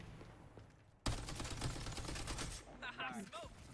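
A sudden loud burst of rapid-fire gunshots in a video game, steady automatic fire for about a second and a half, then a fading tail as a voice starts speaking.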